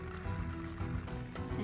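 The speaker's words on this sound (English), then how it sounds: "we squeeze some of that sterilizing fluid right through" Sterilizing fluid is squeezed from a small bottle through the valve line of a scuba drysuit, giving a faint, close, wet gurgling and squishing trickle over a second or two.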